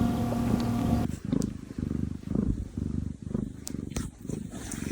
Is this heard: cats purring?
yes